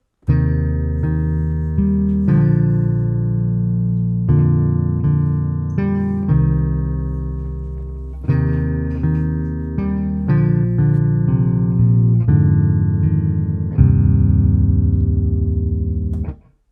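A synthesized bass from Native Instruments Kontakt 6 plays a steady sequence of loud, sustained notes, each changing pitch every second or two, with no voices over it.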